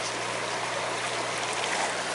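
A river swollen with spring snowmelt runoff flows past, a steady, even rushing of water heard close by with no breaks.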